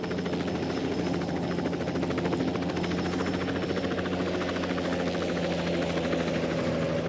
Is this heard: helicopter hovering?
yes